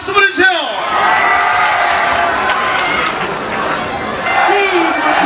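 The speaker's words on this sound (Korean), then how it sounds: "박수 보내주세요." A large outdoor concert crowd at a K-pop show in a Hongcheon forest park claps, cheers and whoops steadily, the noise swelling near the end, with a voice briefly audible over it.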